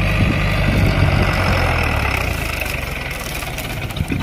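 A Powertrac 60 CRDI tractor's diesel engine idling nearby, a loud, steady low knocking rumble that gradually eases and thins toward the end, with a few faint knocks.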